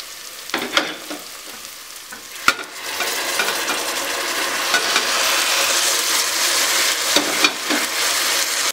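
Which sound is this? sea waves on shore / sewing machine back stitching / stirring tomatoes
stirring tomatoes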